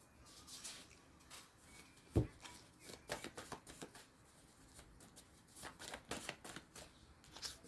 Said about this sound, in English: I'm dropping cards.